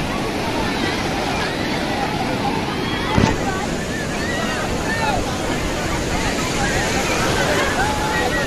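Sea waves roll in at Puri beach as people bathe, making a continuous broad roar of surf with wind buffeting the microphone and one brief knock partway through.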